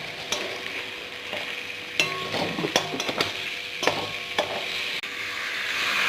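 Steady sizzle from a hot pan of masala with garam masala, a spoon scraping and knocking against the metal as it is stirred, close and continuous.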